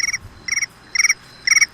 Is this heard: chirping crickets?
yes